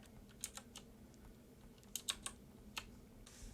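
Keystrokes on a computer keyboard while typing code: a few scattered clicks with pauses, then a short quick burst of taps, fairly quiet against a low steady hum.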